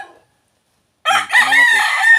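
A wild red junglefowl rooster kept in captivity lets out a loud, close crow after a second of silence, a harsh, ringing call that is still going when the sound ends.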